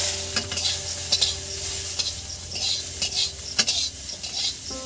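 Onions fry in a pan for shop-style chowmein, a steady sizzle broken by repeated scraping and clinking stirs, close and fairly loud, with no one talking.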